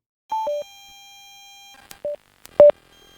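A Sena motorcycle headset's phone connection tone: a two-note electronic chime followed by a long steady tone, then two more short beeps, clean and close with no voices.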